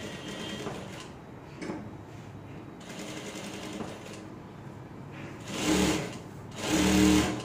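Sewing machine running close and loud while stitching a seam on shorts, a continuous whirring drone that swells into two stronger bursts near the end.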